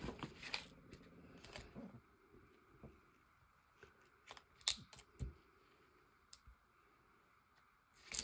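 Scissors cut paper for a collage in soft, intermittent snips and clicks, fairly close and quiet, with small handling rustles between the cuts.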